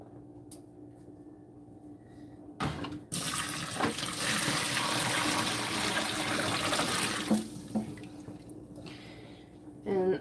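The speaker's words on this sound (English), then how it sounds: "so we are moving boiling hot acid water" Boiling hot acid water for yarn dyeing is poured and moved between bins, a loud gushing, splashing pour for several seconds framed by quieter drips and trickles, with a voice talking nearby.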